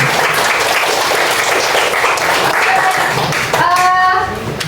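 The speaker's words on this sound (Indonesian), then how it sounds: "Oke, beri aplaus dulu untuk teman-teman." A class of students claps for their classmates with steady, dense applause that fills the room throughout, while a voice cuts in near the end.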